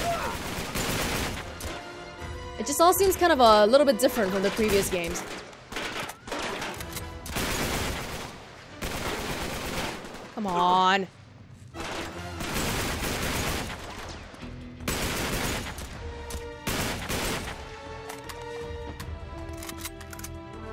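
Heavy, loud gunfire from new guns in Uncharted 3: Drake's Deception, repeated bursts and single shots across a French setting, with someone talking between volleys and game voices mixed in.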